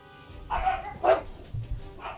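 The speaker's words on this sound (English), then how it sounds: "My God, dogs." Dogs bark in a few sharp, separate woofs spread over two seconds, moderately loud and fairly close, with no talking over them.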